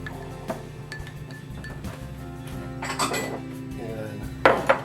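Thin barbecue sauce with Lea & Perrins being mixed in a bowl: a spoon clinks and scrapes against the dish in quiet, irregular strokes, louder near the end, with faint background talk.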